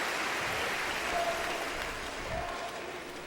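Family members of the Canadian curling team cheer from the stands at the 2011 World Men's Curling Championship final, producing a steady, fairly distant wash of crowd applause and cheering that holds throughout.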